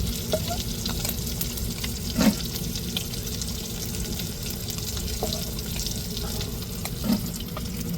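Fish pieces frying in hot oil for a home-cooked fish curry, a steady dense sizzle running throughout with two brief louder crackles or pops, close by and continuous, no voices.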